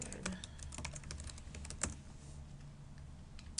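Rapid, uneven clicking of keys on a computer keyboard as a password is typed, close and fairly quiet, with light key taps scattered across the whole stretch and no talking.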